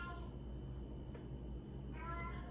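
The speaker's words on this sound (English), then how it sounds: "Oh my God, this cat is psychotic." A cat meows twice at a low level, once at the start and again near the end, over a steady background hum.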